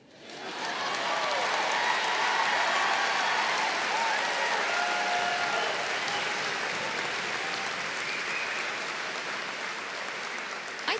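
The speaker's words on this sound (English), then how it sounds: "I think you just got more applause than me." Sustained, dense audience applause fills the hall at a college presidential inauguration ceremony, rising quickly and holding steady at full strength for about ten seconds without talk.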